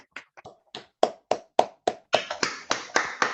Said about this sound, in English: If you'd like to all unmute and give a nice round of applause, please.